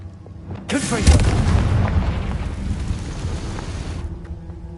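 The Confringo blasting spell goes off in Hogwarts Legacy as a loud, close, booming explosion that rumbles and crackles for a few seconds before ending abruptly.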